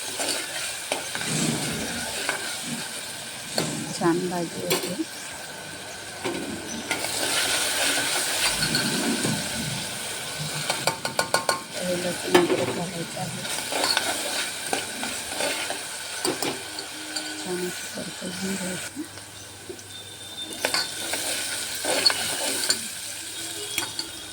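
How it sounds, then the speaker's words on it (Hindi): Okra and potato with salt being stir-fried in a pan: a soft sizzle runs throughout while a spatula scrapes and clatters against the metal in uneven bursts, close and without speech. "मीठ घालायचं छान अस परतवून घ्यायचं"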